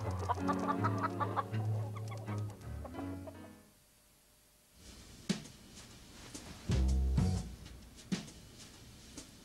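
A chicken clucks in a quick run of close, distinct calls at the start, followed by a quieter stretch and a few scattered, fainter sounds.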